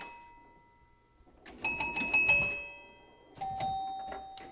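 Pinball chimes on a machine played with a single flipper ring in two bursts of several bright metallic strikes with long ringing tails. A quiet pause comes first, then a second cluster follows, close and clear without talk.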